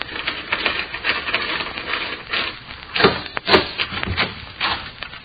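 Wooden door bolts scrape and slide back in a radio drama, a series of close rubbing, grinding strokes with sharper knocks around the middle, heard alone without speech.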